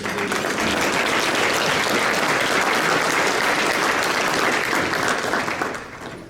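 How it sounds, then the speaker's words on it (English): An audience at an awards luncheon breaks into sustained, dense applause, loud and steady throughout before tapering off near the end. "if you'll join me in a round of applause celebrating our leadership"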